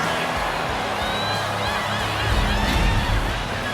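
Crowd cheering in the WWE 2K26 wrestling game during Jacy Jayne's NXT last-man-standing match, a dense roar of voices and whoops that swells slightly toward the end, without commentary.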